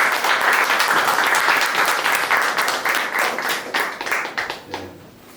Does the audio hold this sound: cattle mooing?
no